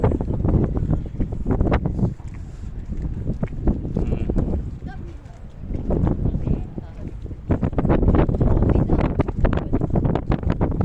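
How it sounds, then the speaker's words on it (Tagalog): Strong wind buffets the microphone in gusty rumbles, broken by irregular thumps and clatter. "Ang hangin. Fresh, mahangin, malamig."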